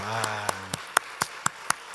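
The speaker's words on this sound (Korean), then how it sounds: "아주 그냥 우리 축복의 박수 한번 해줍시다." Congregation at a Korean church Wednesday evening service clapping in steady unison, about eight evenly spaced sharp claps following a brief voice, fairly close in a reverberant hall.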